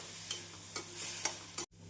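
A soft, steady sizzle of onions and tomatoes frying in a pan for chicken curry, with a few gentle stirring scrapes at regular intervals.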